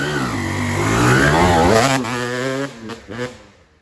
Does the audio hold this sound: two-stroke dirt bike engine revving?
yes